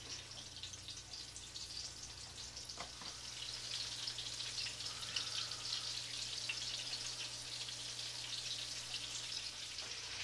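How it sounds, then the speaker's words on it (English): Keftedes, small Greek meatballs, frying in a pan give off a steady close sizzle with faint crackles and pops over about ten seconds, without talk. "Now let's go to the meatballs that are frying in the pan. You can hear them, they're sizzling."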